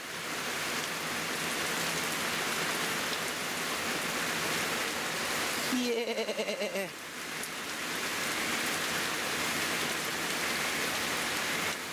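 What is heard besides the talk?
heavy rain storm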